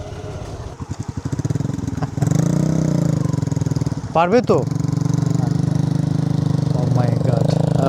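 A motorcycle engine revving and running loudly up close on a rural track near an indigenous village, rising and holding a steady drone, with brief voices speaking over it.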